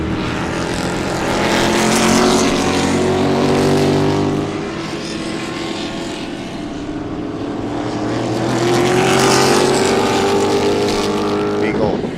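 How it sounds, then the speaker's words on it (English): Race cars at Sebring racetrack sweep past with a loud, rising and falling engine roar and tire noise, two swelling passes close by. "Can you hear the tires?"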